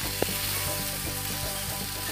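Instant noodles with rendang seasoning and coconut milk sizzle and fry in a pan, a dense, continuous crackling hiss with a faint stirring tap, close and steady throughout.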